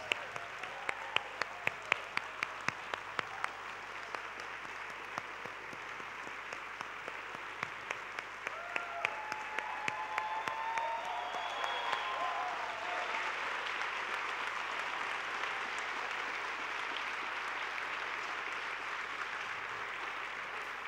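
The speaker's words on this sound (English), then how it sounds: "Very big round of applause there, and you deserve it." An audience at a conference closing plenary applauds as Bana Al-Abed walks on stage, starting with a few sharp claps that swell into a broad, sustained round of applause, fairly distant and soft.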